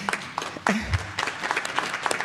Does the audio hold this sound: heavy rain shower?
no